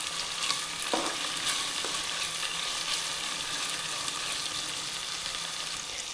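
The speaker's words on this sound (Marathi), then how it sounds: "आपण कांदा पण टाकून घ्यायचा, यामध्ये टोमॅटो, कांदा पण आपण छानपैकी मस्त ब्राऊन होऊ द्यायचा आहे" Onion, garlic and tomato fry in a pan, giving a steady close sizzle with a few soft stirring scrapes. No voices.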